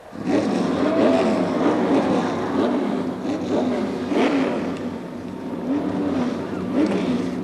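Pickup trucks at a race meeting at Rockingham start up and rev together, a loud continuous engine roar with rising and falling revs throughout.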